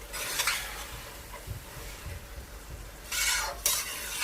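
Ground tomato is stirred into frying aloo methi, a soft sizzle under repeated spoon scrapes and clanks against the pan, close by with a louder scraping burst near the end.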